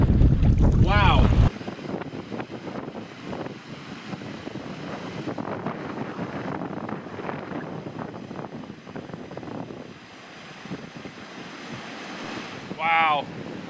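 Strong wind buffets the microphone on a river during a long canoe expedition, loud gusts at first, then a rushing, rumbling roar of wind and water with brief voices at the start and end.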